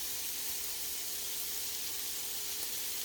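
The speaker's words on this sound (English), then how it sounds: "You're going to let this saute for about 2 minutes until your aromatics get nice" Aromatics sautéing in a pan before celery goes in give off a steady, even sizzle and hiss that fills the whole stretch without pause. No voices are present.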